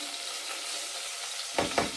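Onions frying in a pan give a steady broadband sizzle close by, swelling into two brief louder bursts of crackle near the end, as if stirred or newly added.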